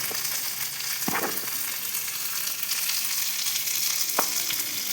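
Onions sizzling steadily in a hot pan while dry chilli chicken is being cooked, a constant close frying hiss with a couple of sharp utensil clinks against the pan.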